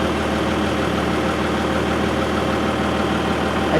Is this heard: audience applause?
no